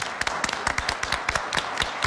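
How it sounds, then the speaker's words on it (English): Applause at a town council meeting, a room of hands clapping in quick uneven bursts that carry on steadily for a couple of seconds, fairly close, with faint voices in the background. "yeah, you can clap for that"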